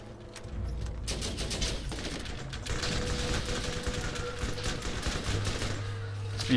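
Rapid automatic gunfire in the Borderlands shooter, a dense, continuous rattle of shots that runs almost without pause for several seconds, loud and close, with brief talk under it.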